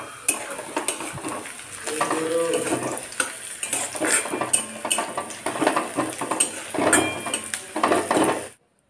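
Winter vegetables frying in oil in a pan, with steady sizzling under frequent scraping and stirring clatter of a utensil against the pan, close up and continuous until it cuts off.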